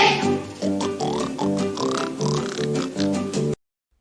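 A Christmas pig grunts and oinks in a quick run of loud nasal squeals and snorts, close up and continuous for about three and a half seconds before cutting off.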